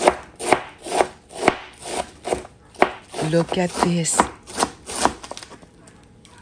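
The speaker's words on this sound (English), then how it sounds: "I am ready to slice." Repeated sharp knife strokes chopping through food on a cutting board in a steady rhythm, close up, with a brief spoken remark partway through.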